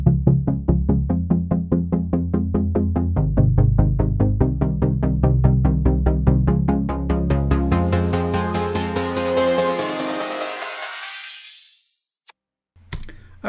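An Access Virus hardware synthesizer plays a melodic sequence of rapid, evenly repeated plucked notes, loud and close, that grow brighter and more open before cutting off, with a short click at the end.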